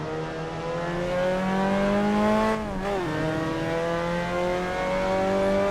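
The MX-5 Cup race car engine in Assetto Corsa, racing at Suzuka, drones loudly at high revs, dipping with a quick gearshift midway before pulling steadily back up, with faint tire noise beneath.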